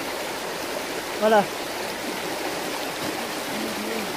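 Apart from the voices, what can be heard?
river water flowing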